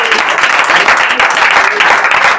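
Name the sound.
applause in church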